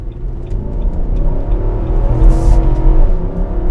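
A 2021 Nissan Armada Platinum V8 turns in and accelerates hard on a night drive, its engine rising in a deep, loud, continuous rumble heard from inside the cabin.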